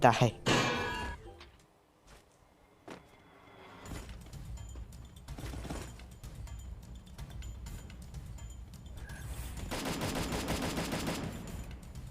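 Gunfire rings out in a video game shootout: a loud burst of shots at the start, scattered reports through the middle, then a dense sustained volley near the end over a busy game soundscape, with a voice talking at times.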